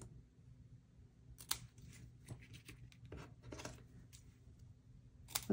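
Scissors trim a printed sentiment panel of paper for a handmade fun-fold card, giving a few faint, close snips and rustles in a quiet room.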